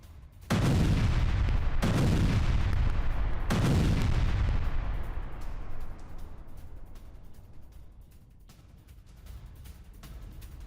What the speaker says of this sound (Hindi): एयर स्ट्राइक की ये तस्वीर और हमास के ठिकानों पर भीषण बमबारी